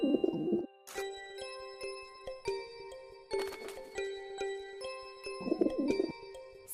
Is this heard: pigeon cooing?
yes